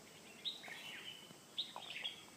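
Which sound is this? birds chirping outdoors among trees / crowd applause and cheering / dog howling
birds chirping outdoors among trees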